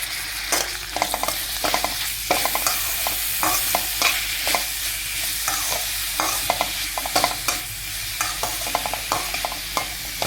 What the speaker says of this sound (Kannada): ಇದು ಸ್ವಲ್ಪ ಫ್ರೈ ಆಗಬೇಕು ಈರುಳ್ಳಿ